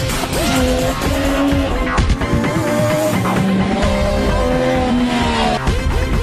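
An MV Agusta F3 675 motorcycle is ridden hard, its engine note rising and falling through repeated revs and gear changes, loud and close amid busy background noise.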